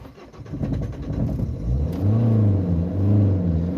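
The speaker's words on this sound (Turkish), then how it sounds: "Çalıştıracağız arabamızı." A stalled car's engine cranks, catches and starts, then is revved in rising and falling pulls with a loud close rumble; no talk over it.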